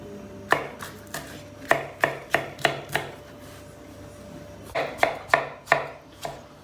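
Green peppers chopped with a knife on a board: sharp, close thunks in quick bursts of three or four, a quiet pause mid-way, then another rapid run of cuts.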